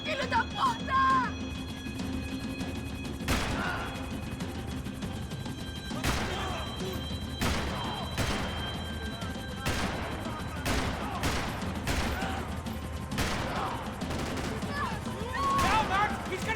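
Gunfire in Max Payne 3: a series of sharp, loud shots at irregular intervals, some in quick pairs, cracking through a constant rumbling background, with voices shouting between the shots.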